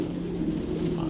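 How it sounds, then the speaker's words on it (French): Pigeons cooing on a pigeon farm housing around two thousand breeding pairs, a continuous low murmur of many birds close by throughout. "tu avais à peu près 2000 pigeons 2000 couples. 2000 couples de pigeons"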